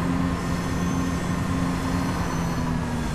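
Simulated training academy train running in Train Simulator 2015, a constant rail rumble with a low steady engine hum, unbroken and moderately loud, with no voices.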